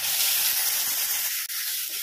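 Cut tomatoes hit hot oil and sizzle with a loud, steady, broad hiss that continues without a break, close by, with no talk over it.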